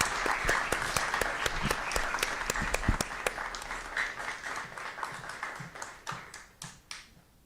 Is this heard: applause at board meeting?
yes